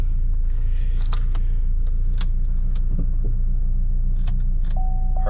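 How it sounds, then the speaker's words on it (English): Over a steady engine idle rumble inside a Saab 9-5 Turbo, a few short mechanical clicks and brief whirring sounds come and go as the parking brake engages and disengages. "parking brake. Hear it engaging and disengaging."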